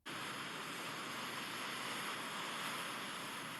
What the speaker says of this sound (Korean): 갑자기 바람이 거세지는가 싶더니 큰 파도가 몰아쳤죠.